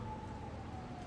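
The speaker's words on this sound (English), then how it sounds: "You can hear the sirens everywhere." A siren wails faintly in the distance, a thin steady tone drifting slightly in pitch over a low background rumble.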